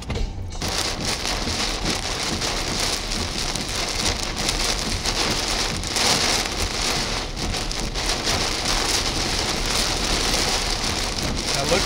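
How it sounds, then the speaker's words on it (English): Heavy rain lashing down during a windstorm on I-80 in Nebraska, a loud, dense, unbroken roar of downpour with gusty wind, no voices. "The rain's heavier and your visibility is less than a quarter of a mile"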